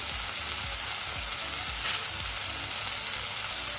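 Onions browning in a pan with black pepper and a bay leaf, a dense, even sizzle heard up close and alone, with faint low clicks of stirring underneath.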